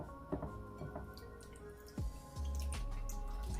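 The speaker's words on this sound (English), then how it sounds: "Just put them in some water, some cold water, and just kind of rub them." Soaked chickpeas rubbed by hand in a bowl of cold water to loosen their skins give off quiet drips, squishes and small splashes in an irregular rhythm, close up with no talking and a low hum joining partway through.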